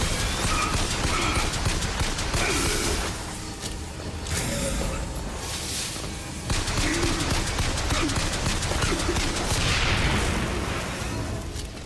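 Sustained gunfire in the video game BioShock Infinite, with rapid bursts and booming shots that keep up loud and almost without a break, dipping briefly before picking up again.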